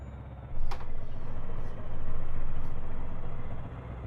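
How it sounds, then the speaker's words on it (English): A truck engine in the driving game Euro Truck Simulator 2 hums steadily at a low, moderate level, swelling slightly twice as the throttle changes, with no talking. "Still, really do like the sound of that truck."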